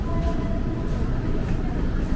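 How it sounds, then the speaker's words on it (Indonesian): A KRL commuter train rumbles steadily while shunting at Bogor station, a low continuous rolling drone heard at moderate distance with no clear voice on top. "di jalur 2-nya tuh juga ada KRL yang lagi langsiran"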